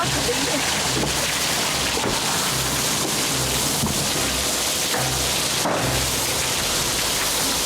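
Heavy rain pours steadily, a dense loud wash of drops drumming on a surface without letup.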